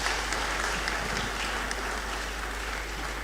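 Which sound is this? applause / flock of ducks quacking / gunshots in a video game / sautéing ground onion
applause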